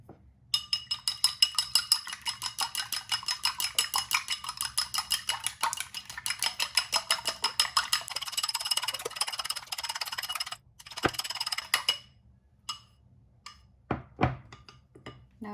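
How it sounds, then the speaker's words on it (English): Chopsticks whisking eggs in a bowl for a Beijing-style tomato and fried egg dish, a quick steady clicking rhythm against the bowl for about ten seconds, then a few scattered taps and knocks. "Use a chopstick to whisk the egg."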